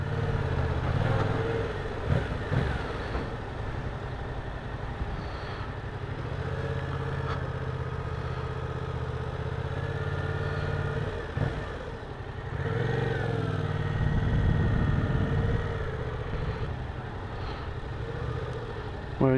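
A 2017 Yamaha MT-07 Tracer 700 motorcycle on a test ride, its mid-pitched engine droning steadily at low speed close by, with a few brief dips and swells.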